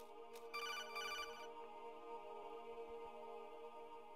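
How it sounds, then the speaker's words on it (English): A telephone rings in Metal Gear Solid 2, with repeated electronic trills in quick bursts over a steady humming background and no talk. "Wanna answer the phone?"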